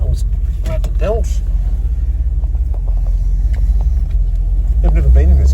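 A 1970 Plymouth Sport Fury GT with a 440 V8 drives along with a steady low engine rumble, while people talk over it inside the car.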